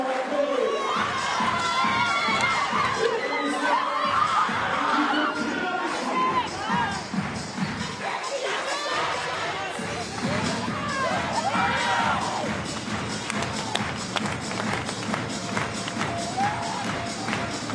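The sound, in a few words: arena applause for Korea after basketball game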